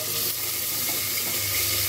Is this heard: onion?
yes